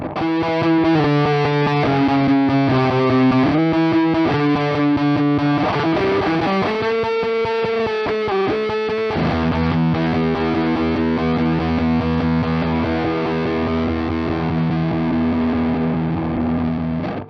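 Heavily distorted guitar chords played through an effects pedal with a broken diode, with a warbling, glitchy modulated texture that shifts midway into a denser, buzzing wash.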